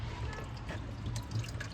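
Dirty water drains out of an air cooler with a continuous low splashing and trickling, close and steady for a short stretch, with occasional drip-like accents on top.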